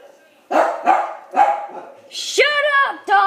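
Several dogs bark nearby in loud, separate bursts, then break into higher yelping, whining cries toward the end.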